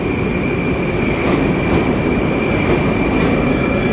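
A Moscow Metro train rumbles loudly and continuously close by as it arrives, with a steady high whine from the rails and no voices.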